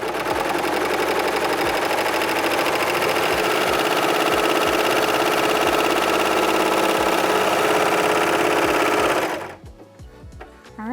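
A serger sewing a 3-thread narrow rolled hem along the edge of tulle fabric, a loud, fast, steady mechanical whir running for about nine seconds before it stops abruptly, leaving quiet handling noise.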